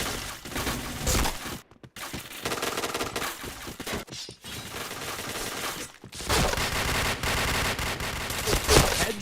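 Dense bursts of automatic gunfire from the online shooter game Point Blank, heavy rapid fusillades broken by a few short silent gaps, loud and close across the whole stretch.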